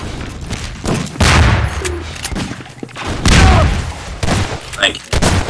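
Shotgun blasts in a Half-Life 2 Deathmatch game land as several loud, sharp booms at irregular intervals amid other gunfire and game effects, with voices talking over the action.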